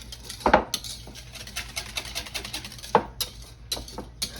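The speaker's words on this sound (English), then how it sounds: "I'm gonna whisk this together" A whisk works a coating sauce for bang bang shrimp in a bowl, giving quick light scraping strokes with a couple of sharper clinks against the bowl, close and moderately loud, no talking.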